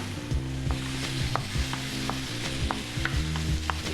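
Carrots cook in a hot frying pan, sizzling steadily up close while being tossed and flipped in repeated quick shakes, with no voices.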